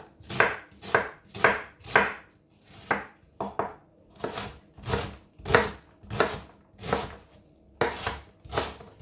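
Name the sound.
chopping half an onion with a knife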